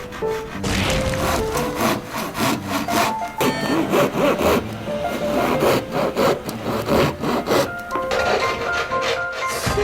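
Hand saw cutting wood on a rural house-building site, with steady back-and-forth rasping strokes close to the listener and continuous throughout, no voices.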